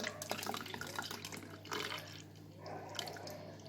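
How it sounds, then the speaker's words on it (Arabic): Whole milk poured from a cup into a blender jar for a chocolate-sauce blender cake, a steady liquid splash and trickle close by with no voices. "حط كوب اللبن الكامل."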